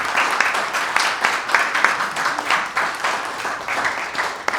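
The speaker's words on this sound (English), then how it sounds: "how about a round of applause for our panelists here?" An audience at a panel discussion on non-farm activity in exclusive farm use zones claps for the panelists, a steady mass of applause that holds at an even level across the whole stretch.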